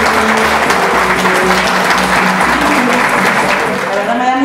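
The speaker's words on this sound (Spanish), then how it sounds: "Fuerte los aplausos, por favor." A crowd at a regional political party meeting gives dense, loud, continuous applause that holds steady throughout to welcome a guest.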